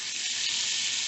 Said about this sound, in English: There's my meat cooking.